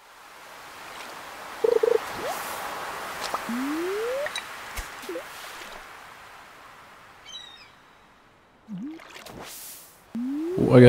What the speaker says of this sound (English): I got tricked by the little bloop sound.